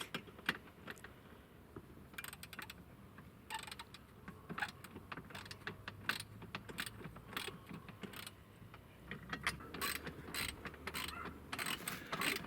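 Ratchet tightening a winch mounting bolt on a Can-Am Outlander 500 ATV, repeated close clicking strokes in uneven bursts with metallic rattles between them.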